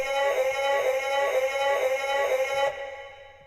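Lush vocal atmosphere pad processed with reverb and OTT compression but no chorus or phaser, a sustained layered harmonic wash with gentle swells that cuts off abruptly near the end, leaving a faint tail.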